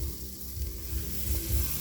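Pepper and onion kabobs sizzle on a grill after being coated with chimichurri, a close, loud crackling hiss with low thumps.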